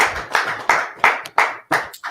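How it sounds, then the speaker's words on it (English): A few hands clap in slow, even unison, about six sharp claps close by with no speech. "Clap it up."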